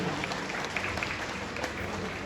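A crowd at a strike rally claps together, a dense and fairly faint patter of applause that holds steady throughout without any voices over it.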